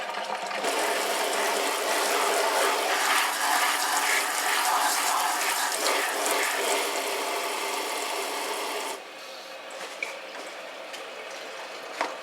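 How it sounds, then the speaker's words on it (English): Water from a sink tap runs steadily onto a waxed cloth haversack, a loud continuous hiss and spatter that cuts off abruptly, leaving quiet drips and small sounds. "I'm going to put it in the sink and see if the water will still bead up off of it"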